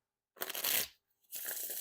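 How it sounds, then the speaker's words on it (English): Two quick riffle shuffles of a Lepidopterist Patina Edition deck of playing cards, each a crisp fluttering burst of card edges snapping together, close and clear with a short pause between. "definitely no issues with the riffle shuffles or bridge shuffles. These riffle fantastic."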